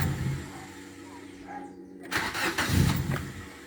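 A 2007 Nissan Almera with a QG15DE engine, suffering a crank-no-start fault, is cranked briefly before it catches and fires, running rough and uneven close by.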